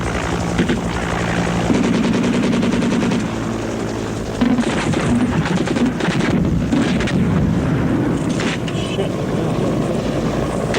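Loud, steady Soviet military helicopter rotor drone with wind buffeting, broken by sharp crackling bursts that suggest gunfire mid-way, during an attack on a village in Afghanistan.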